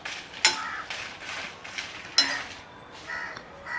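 Whole dried red chillies dry roasting in a pan without oil over a low flame, with repeated light scraping and clinks of a spatula against the metal pan, along with faint rustling.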